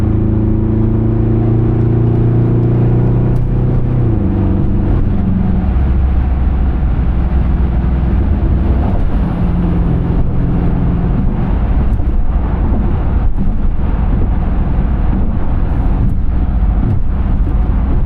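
Pontiac G8 GT heard from inside while driving, a loud steady engine drone and road rumble filling the cabin throughout, with a few bumps and shifts in tone as it rolls along.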